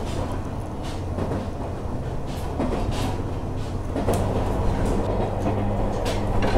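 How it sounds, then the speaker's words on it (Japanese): Aboard a limited express train from Sapporo nearing Minami-Wakkanai, a continuous low rumble carries repeated rhythmic wheel clacks and knocks, steady and fairly close throughout. "列車まもなくね南稚内に到着です"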